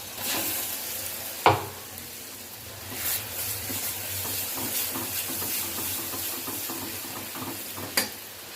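Ground masala paste sizzles and hisses in a hot pan for a curry while being stirred, a steady frying hiss with a few sharp scraping clicks near the start and end.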